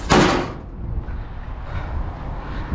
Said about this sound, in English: As I grab 2 more, because I gotta close the door.